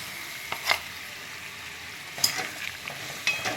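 Capsicum and paneer go into a sizzling pan: a steady hiss of frying runs throughout, broken by a few sharp clinks and stirring scrapes close by, with no talking.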